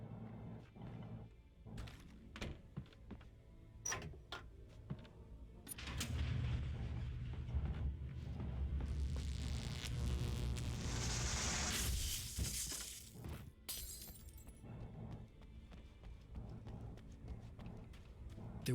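Flashbang grenades go off in the video game Alan Wake: loud bursts with a sustained ringing hiss mid-way, surrounded by scattered sharp impacts and cracks.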